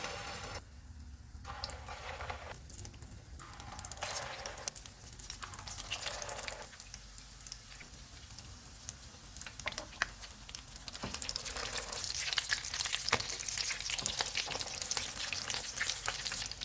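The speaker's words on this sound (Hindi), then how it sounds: "कबाब फ्राई हो गए, इनको निकाल लेते हैं।" Egg and potato kababs frying in hot oil on a low to medium flame, giving a continuous close crackling sizzle that swells louder toward the end, with occasional soft stirring movements.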